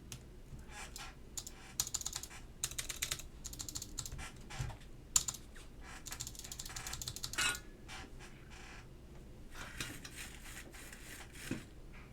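Keycaps pressed onto an Alps SKCM White mechanical keyboard build, bursts of quick light plastic clicks and taps in irregular clusters, close and quiet.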